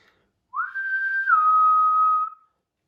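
An eagle whistle blown once, a single clear sustained tone of about two seconds that holds steady, then drops slightly in pitch partway through. Loud and close, alone against silence.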